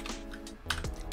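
Keys tapped on a computer keyboard while software packages are installed in a Linux virtual machine, quick irregular clicks in close succession, near and moderately loud, with no talking.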